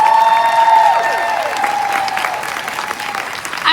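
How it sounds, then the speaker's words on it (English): Conference audience at National Harbor claps in a sustained burst of applause, loud and close at first, then tapering slightly, with a few tonal sound-system notes ringing over it and no clear speech. "Let's give them a big round of applause."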